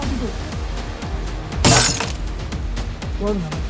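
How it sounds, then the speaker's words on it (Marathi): One loud, sharp smash of a door being broken cuts through nearby voices and background clatter. "आता चेंबर तोडून राहिले"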